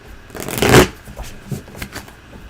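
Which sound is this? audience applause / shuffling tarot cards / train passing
shuffling tarot cards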